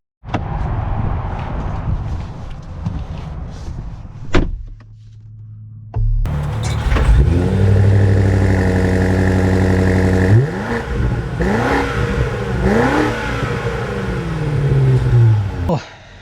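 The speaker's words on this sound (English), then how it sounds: "Let us take a little drive here in the M5." A 2025 BMW M5 starts up as a drive begins. A muffled cabin hum and a sharp knock come first, then the engine revs up loudly, with gear changes sweeping through the rising tone and a voice speaking faintly underneath.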